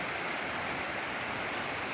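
River swollen after rain rushing over a wet crossing, a dense continuous roar of flowing water with no pauses and no voices.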